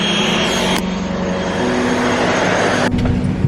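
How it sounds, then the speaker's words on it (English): Steady, loud engine drone fills the cabin of a propeller passenger plane on a short island hop toward Trinidad, a continuous broadband roar with a brief shift near the end and no talking over it. "we had to board one more plane, which was one of the propeller planes"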